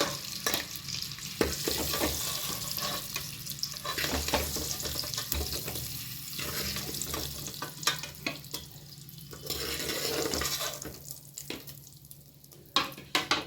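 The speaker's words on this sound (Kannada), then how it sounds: "ನೋಡಿ, ಮೊಟ್ಟೆ ಎಲ್ಲ ಫ್ರೈ ಆಗಿದೆ" Eggs coated in masala fry in a pan with a continuous close sizzle, interrupted by repeated stirring and scraping and a few clinks of the spatula.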